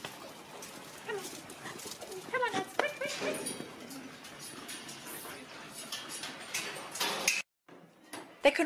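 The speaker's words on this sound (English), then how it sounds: "Now I need to move the rest of the hounds so I can start the cleaning." Working beagle hounds in a kennel yield a busy, close din of barks, yelps and whimpers, with a voice speaking over the pack.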